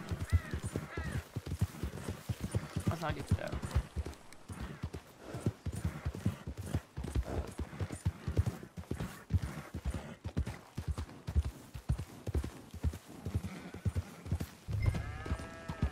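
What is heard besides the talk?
horse galloping in the video game Red Dead Redemption 2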